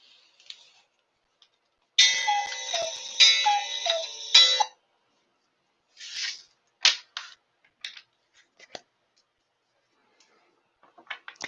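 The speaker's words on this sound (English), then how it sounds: "that was the timer" An electronic timer goes off with a rapid repeating beep-beep alarm for a couple of seconds, then stops, leaving scattered clicks and small handling noises.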